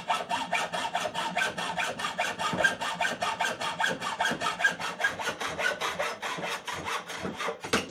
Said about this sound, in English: I'm going to cut 2 pieces of aluminum to the right length to match this